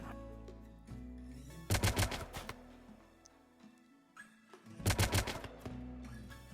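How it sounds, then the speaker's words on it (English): Gunfire in the sci-fi colony game RimWorld: two loud bursts of rapid automatic shots, each about half a second long and a few seconds apart, set against a quieter background of game music and ambience. "The gun sounds I'm digging for sure."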